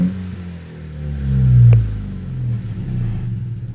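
A 2018 Honda Accord with a muffler delete gives a short rev, a deep exhaust rumble swelling to a peak and falling back, then a steady lower drone, close and fairly loud.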